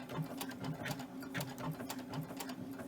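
Sewing machine running slowly while stitching the side seam of a pillowcase, a steady whirring drone with a fast pulsing rhythm, close and moderately loud, without talk.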